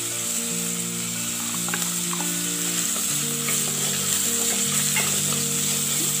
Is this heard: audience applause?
no